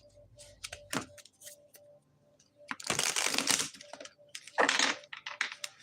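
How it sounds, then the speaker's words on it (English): Tarot cards being shuffled by hand at close range, in irregular bursts of riffling and tapping, with two louder, longer shuffles near the middle and the end, over a faint background tone. "let me just do a little shuffling here"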